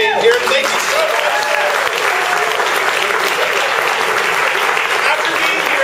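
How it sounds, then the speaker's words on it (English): A dense, sustained round of audience applause fills a theater at the Arts West season announcement, loud and steady throughout without breaks. "I want to give you guys a huge round of applause for being here"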